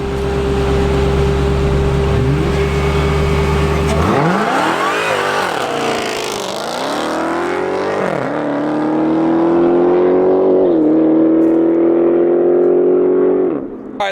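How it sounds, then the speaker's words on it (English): A Dodge Demon and a Nissan GT-R Nismo launch in a drag race at Speed Vegas, their engines roaring loud and close as they rev hard, shift through gears and pull away, with the noise fading toward the end. "We're gonna do one more Nismo versus the Demon"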